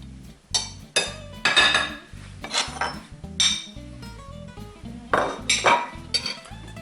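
Spoon or whisk clinking and scraping against a bowl while cheesecake batter with sugar, flour, strawberries, vanilla extract and food colouring is mixed, in close, irregular bursts of clatter without talk.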